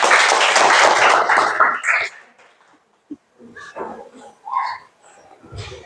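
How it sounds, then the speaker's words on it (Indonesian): A school class applauding during a basketball lesson: about two seconds of dense, loud clapping from many hands, which then fades into scattered voices and movement in the room. "Oke, tepuk tangan lagi."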